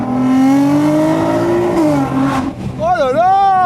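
Tuned 700 hp Nissan GT-R, reprogrammed beyond stage 1, on a race track. Its engine roars steadily, rising in pitch, then dips briefly before winding up hard again in a sharp rev sweep, loud and close.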